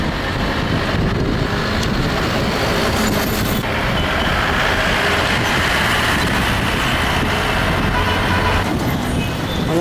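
Street traffic in Kathmandu after the 2015 earthquake, with trucks moving through: a steady, loud rumble of engines and road noise, buffeted by wind on the microphone, with no clear voices.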